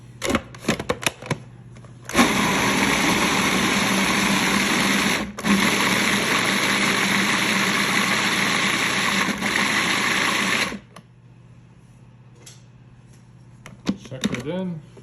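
Food processor pureeing hummus with tahini, a loud steady motor whir running for several seconds with a brief dip partway, then stopping; clatter and handling noises come before and after.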